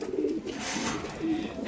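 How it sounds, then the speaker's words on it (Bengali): Caged pigeons at a market stall cooing, low throaty coos repeating twice in under two seconds, close and moderately loud over faint background noise. "আছে আরেক পেয়ার কবুতর।"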